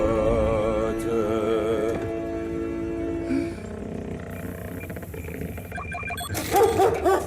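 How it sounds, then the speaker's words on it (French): A large dog barks and yips, with a few short barks early on and louder excited barking near the end, heard over background music and other sounds in a French film. "il y a un gros chien, qu'est-ce que je fais?"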